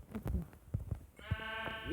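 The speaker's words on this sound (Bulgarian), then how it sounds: "Ето тук има още овци" Sheep bleating in the Minecraft video game, several short bleats close by in the first second, followed by a sustained harmonic tone near the end.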